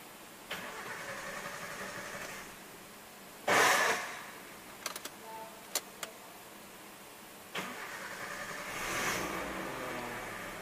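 A 1995 Suzuki Escudo JLX 1.6 being started, with a short burst of cranking before the engine catches, followed by a few sharp clicks and later rising revs as the throttle is pressed, heard up close with no talking.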